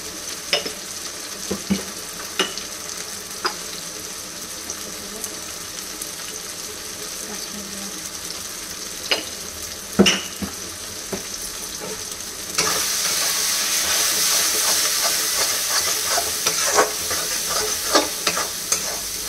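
Turmeric and chili spice powder fry in hot oil for a mutton curry while being stirred, with a steady sizzle, sharp scraping clicks from the spoon, and a louder, fuller hiss in the last third.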